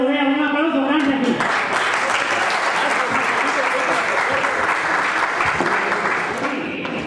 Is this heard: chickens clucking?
no